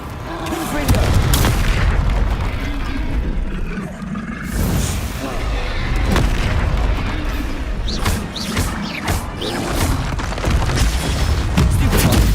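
Confringo fire spell explosions in Hogwarts Legacy amid dense combat din, a continuous loud rumble of booms and crashes with repeated sharp bursts, a voice talking over the battle.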